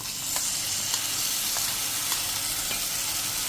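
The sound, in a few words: spiced yogurt masala sizzling as it cooks in a pan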